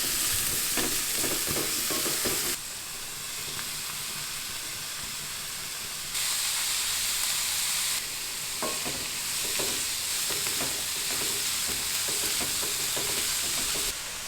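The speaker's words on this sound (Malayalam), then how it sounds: "സവോളയും പച്ചമുളകും തക്കാളിയും കൂടെ നമുക്കൊന്ന് വഴറ്റിയെടുക്കാം." Onion, green chilli and tomato sautéing in a hot pan for a noodle omelette, with a steady loud sizzle broken by repeated scraping stirs and clinks of a spoon. No voices are heard.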